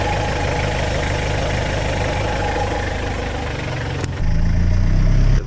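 The engine of an HJ47 Landcruiser drones loud and close as its rear wheels struggle for traction on loose rocks. A sharp click comes near the end, and then the engine note shifts to a heavier, deeper rumble.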